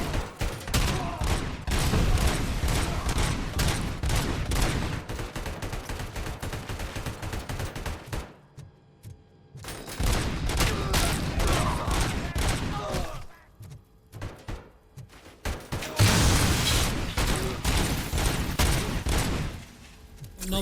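Enemy gunfire in the game Robocop Rogue City: dense bursts of shots in long sustained volleys broken by brief quiet gaps, loud and close throughout.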